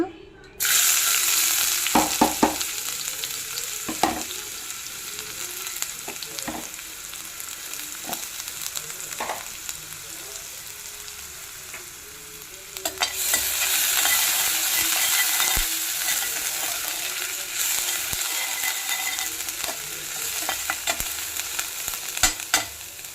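Green chilli and onion fry in oil in a pan on a stove, with a steady sizzle and scattered stirring clicks. The frying swells louder about halfway through and continues without talk.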